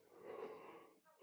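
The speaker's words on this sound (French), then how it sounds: "je vais bâiller" A person yawns during a talk on social phobia, a single breathy, drawn-out exhalation lasting about a second, heard close and fairly quiet.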